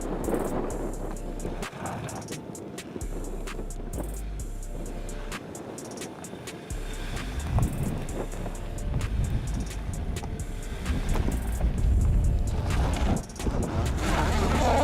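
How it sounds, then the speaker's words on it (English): A Hyundai Tucson SUV accelerates up a slippery climb as traction control engages, giving a loud, rough engine drone with rumbling and knocking from the wheels and underbody that builds toward the end. "Tucson accelerates, slipping before the start of the traction control system and slowing down the posted wheels."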